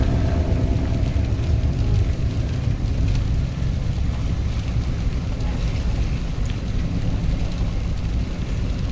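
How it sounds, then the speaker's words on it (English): Rain falls steadily over an outdoor Coffee & Cars meet in Oklahoma City, a dense broadband wash with wind buffeting the microphone throughout and no clear voices. "Oh, that rain's getting me."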